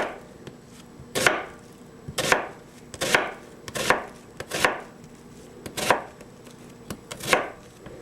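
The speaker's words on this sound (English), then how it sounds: "I kind of squeeze that so that these pieces that you're cutting don't slide out on you." Knife slicing through a vegetable on a cutting board, about eight crisp chops at a steady, slightly uneven rhythm, each a sharp close thud-snap with brief quiet between, no talking.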